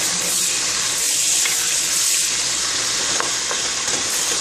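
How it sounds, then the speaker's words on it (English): Onions fry in red palm oil in a pot for okra soup, a loud continuous sizzling hiss with faint stirring scrapes running through it, close up and without talking. "I'm gonna stir it a little bit."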